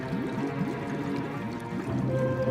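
Water pours from an overflowing gutter, a continuous gurgling, splashing flow that stays fairly loud and steady throughout with no talk.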